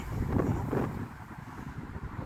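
Steady cold wind buffeting the microphone outdoors at the Kelpies in Falkirk, Scotland, a low continuous rumble that swells briefly near the start, with no voices.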